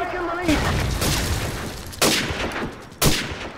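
Loud grenade blasts in a Call of Duty 4 deathmatch on the Bog map, three sharp broadband booms spaced about a second apart over constant gunfire and game noise, with a voice talking through it.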